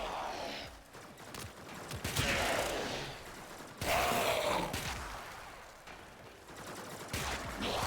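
Pistol gunfire in the video game Warframe: sharp, loud bursts of shots with clattering mechanical noise, rising and falling across the stretch, with no voices.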